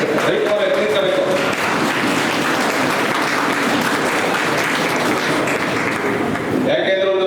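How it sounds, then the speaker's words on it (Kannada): A standing audience at a Vokkaliga community bride-and-groom matchmaking convention in Ramanagara gives sustained, dense applause that stays loud and continuous throughout. "ನೀವೆಲ್ಲರೂ ಎದ್ದು ನಿಂತವ್ರು ಚಪ್ಪಾಳೆ ಹೊಡೆಯಬೇಕು"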